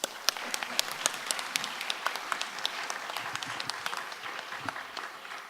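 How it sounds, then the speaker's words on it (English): Audience applause fills an awards ceremony, a steady wash of many hands clapping at moderate volume, with sharper individual claps popping out of the texture throughout. "So give yourself a round of applause."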